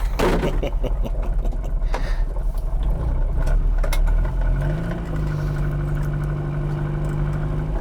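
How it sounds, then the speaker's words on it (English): A turbocharged classic Mini Cooper engine drones from inside the car during a ride, a steady mid-pitched hum that settles into a sustained tone partway through, with road and cabin noise throughout. "Here's your sneak peek ride along in a turbocharged classic Mini Cooper"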